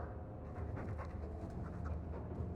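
A dog pants steadily in Dragon Age II, quick rhythmic breaths close up and continuous throughout, with a low background hum.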